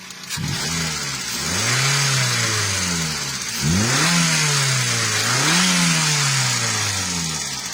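A Toyota Avanza K3 engine with improper valve clearance revs up and down repeatedly, rising and falling in pitch, loud and close, with no talking.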